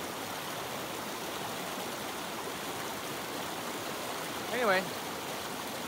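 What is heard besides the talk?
river flowing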